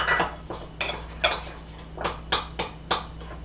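Butter and brown sugar being mixed in a bowl for edible cookie dough, giving a run of distinct utensil clinks and scrapes against the bowl, about eight close knocks spaced irregularly, with no talking.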